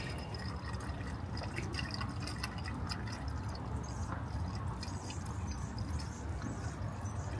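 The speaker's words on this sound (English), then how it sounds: "I'm going to add a mess of coolant here" Coolant pours steadily into the radiator of a BMW X5 during a radiator swap, a continuous gurgling liquid fill with faint splashing, close and even throughout.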